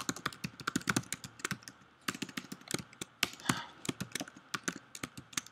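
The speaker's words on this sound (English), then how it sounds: "Typing too fast." Rapid clattering keystrokes on a computer keyboard, close and crisp, in quick irregular bursts with no talking.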